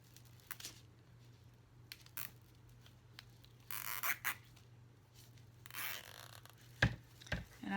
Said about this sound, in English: I'm just going to zip tie that super tight.